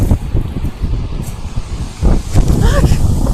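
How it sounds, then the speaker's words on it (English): Strong outdoor wind in Michigan buffets the microphone in low gusty rumbles, loud and uneven throughout, with a brief rise near the end. "It's so windy out here."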